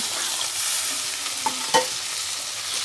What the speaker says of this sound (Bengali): আর আমি জল দেওয়ার পর মশলাটা একটু নেড়ে নিলাম।